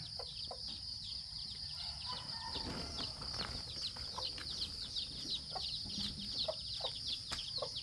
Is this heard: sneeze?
no